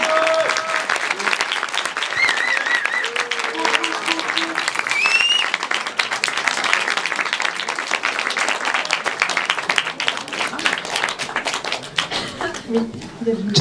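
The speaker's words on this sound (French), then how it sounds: "merci d'applaudir Fabien Delage, réalisateur, et ses collègues" An audience at a Paris film premiere applauds the director and his team, sustained crowd clapping filling the room with scattered individual claps prominent, while voices and brief chatter run underneath.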